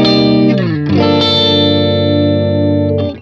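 James Trussart Steelguard Caster electric guitar played on its middle pickup position through effects, a loud sustained chord that bends and changes near the start, then rings steadily before cutting off.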